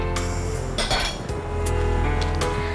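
A metal spoon clinks against a dish as sugar is spooned into a cocoa-powder mixture in a cooking-show kitchen. Several sharp clinks stand out over a steady low background hum, with no talking.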